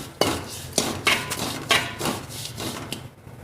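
Cooked rice is stirred into curry leaf powder in a pan, giving about six scraping, clattering spoon strokes at a steady rhythm, close and fairly loud, with no voices.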